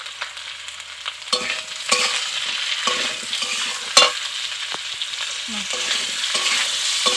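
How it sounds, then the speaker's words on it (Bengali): Salted vegetables including papaya are stir-fried in a pan: a loud, continuous sizzle broken by repeated sharp scrapes and knocks of the spatula against the pan, with no one talking. "সবজিগুলোকে কিন্তু অবশ্যই খুব ভালো করে ভাজতে হবে"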